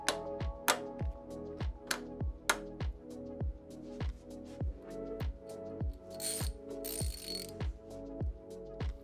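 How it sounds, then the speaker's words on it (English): A hand ratchet with a 14mm socket clicks steadily while loosening the saddle rail bolts on an e-bike, a close, evenly paced series of sharp ratcheting pawl clicks with no talking. "use a hand ratchet and a 14mm socket to loosen the bolts on either side of the saddle rails"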